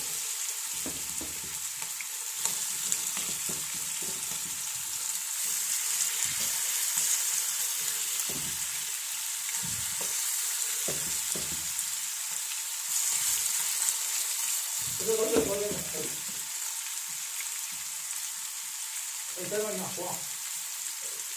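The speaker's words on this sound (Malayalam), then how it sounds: "ഈ വലിയ പാത്രമാണ് ചേർത്ത് വെച്ചിട്ടങ്ങ് വറുക്കാം" A constant, even sizzle of food frying in a large pan runs throughout, with brief voices speaking now and then.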